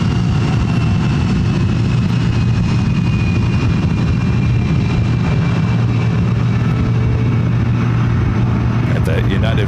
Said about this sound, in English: Got the United flight heading to SFO, now taking off, runway 26 right.